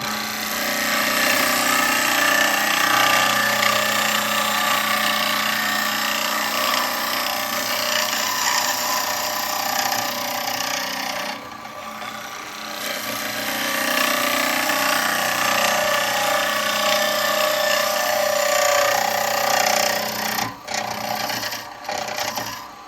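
A spindle gouge cuts a wood blank spinning on a woodturning lathe, giving a loud, continuous scraping and rasping hiss with a short lighter patch midway and brief breaks near the end.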